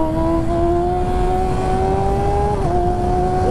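A professional racing motorcycle's engine revs hard and climbs steadily in pitch during a wheelie, then dips briefly with a gear change before rising again. The sound is loud and close against heavy wind rush.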